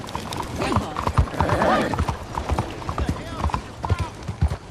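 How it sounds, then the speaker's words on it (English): Horse hooves clopping in the Red Dead Redemption 2 video game, rapid uneven hoofbeats close by, with a brief whinny and a voice talking over the galloping. "Some weird stuff going on with this horse right now."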